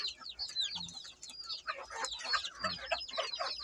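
A rooster calling to its hens with a run of quick clucking and chuckling notes, nearby and fairly clear over a quiet farmyard background.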